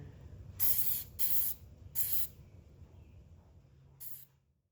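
Mod Podge aerosol sprayed onto paper in four quick light passes, each a loud, close hissing burst lasting about half a second, with a low room hum underneath and brief pauses between bursts.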